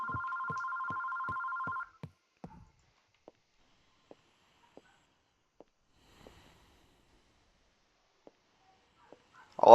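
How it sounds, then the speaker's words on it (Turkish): A telephone rings with a rapid trilling electronic bell for about two seconds, then stops; sparse soft clicks and taps follow in near silence before a brief loud burst at the end. "Aa telefon çalıyor."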